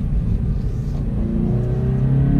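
Engine of a 2018 Subaru BRZ sports car revs up to around 3,000 RPM. Its deep, close rumble climbs steadily in pitch over a couple of seconds with no talking.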